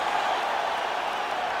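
Arena crowd noise from a UFC 5 video game bout roars as the fighters return to their feet after grappling, a dense, steady wash of cheering that fills the whole moment without breaks.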